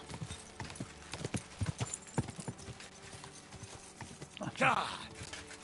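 Horse hooves in the video game Kingdom Come: Deliverance 2 clip-clop in a quick, uneven galloping rhythm, followed by a short burst of horse-like noise near the end, under a steady background hum.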